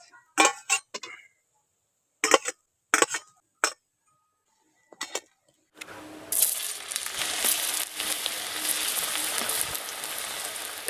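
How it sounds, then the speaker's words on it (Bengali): Stuffed taro koftas with an egg filling frying in hot oil: a steady, fairly loud sizzle fills the second half, after several short clinks and knocks of utensils against a pan in near silence. "কোপ্তাগুলোকে উলট পালট করে ভালো করে ভেজে নেব"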